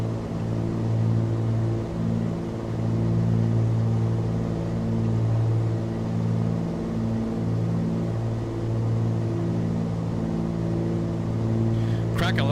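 Piston twin engines of a Flysimware Cessna 414 Chancellor in the MSFS 2024 flight simulator drone in a steady, loud, low harmonic hum throughout, with a brief crackle near the end.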